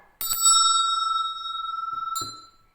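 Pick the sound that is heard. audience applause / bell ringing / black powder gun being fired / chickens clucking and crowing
bell ringing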